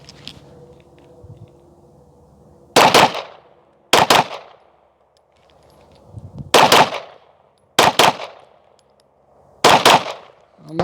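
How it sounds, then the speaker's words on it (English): A Glock pistol fires at an outdoor shooting practice. About five or six loud, sharp shots ring out, spaced a second or two apart, and each crack is followed by a short echoing decay. "I'm going to try not to shoot quite as many rounds this time. Maybe 10, somewhere between 8 and 10,"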